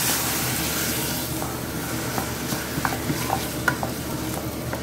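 Ground chicken stirred and frying in a pan, a steady sizzle with scraping spatula strokes and small clicks, close by with no talking.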